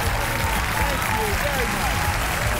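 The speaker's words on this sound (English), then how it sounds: "Everybody give Jim a big round of applause." Audience applause at a magic awards show, a dense, sustained wash of clapping and cheering, while someone speaks briefly over it.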